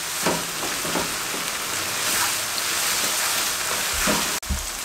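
Beef keema frying on high flame in a karahi, a loud continuous sizzle with occasional scraping stirs and a brief clatter near the end.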